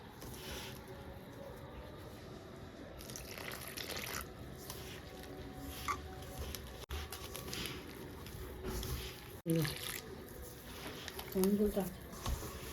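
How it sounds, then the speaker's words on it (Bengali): Warm water trickles and splashes into rice flour for chitoi pitha as it is kneaded by hand, with squishy mixing and faint tap-like running water throughout, under a steady background. "এরপর এর ভিতরে উষ্ণ গরম জল দিয়ে ভালো করে মেখে নেব চালের গুঁড়োটাকে"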